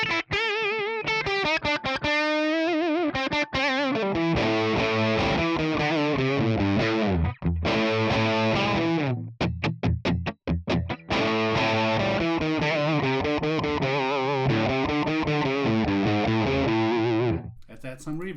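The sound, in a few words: electric guitar through ToneX ONE amp model, no reverb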